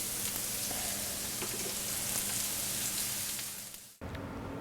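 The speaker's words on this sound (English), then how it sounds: "2 minutes at the most on each side just to sear these up" Pork tenderloin sears in a hot pan with a loud, steady, crackling sizzle that cuts off abruptly near the end and leaves a fainter hiss.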